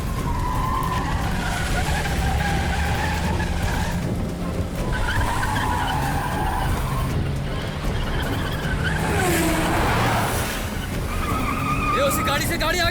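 An auto rickshaw races and skids through a chase, with continuous loud engine whine, tire squeal and traffic noise, while shouting voices urge the driver on over the din.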